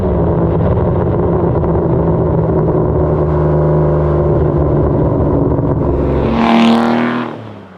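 A manual Aston Martin DBS V12 idles with a deep, steady burbling rumble, then a sharp rev rises loudly near the end before fading away, heard up close with no talking.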